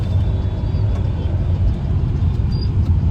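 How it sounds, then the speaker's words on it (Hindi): Heavy road traffic in stop-and-go congestion, a steady low rumble of car and bus engines heard from inside a vehicle, loud and continuous throughout. "अभी ट्रैफिक में फंस गए"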